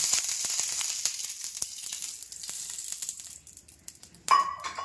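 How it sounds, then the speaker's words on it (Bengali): A hot dosa pan sizzles after water is sprinkled on it, a strong hiss that fades over several seconds, followed by a brief clink and a fresh burst of sizzling. "এবার আমি ডোসাটাতে জল ছিটা দিলাম, জলটাকে এবার মুছে নিচ্ছি।"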